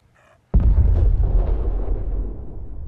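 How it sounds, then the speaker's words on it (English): A loud explosion from the video game Fallout 4 bursts in suddenly after a moment of near silence, then rumbles on and slowly fades during a zombie outbreak in the game's Diamond City. "explosions going off in the background because of this sort of zombie outbreak going on around here"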